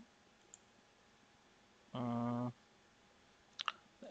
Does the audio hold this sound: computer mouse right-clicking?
yes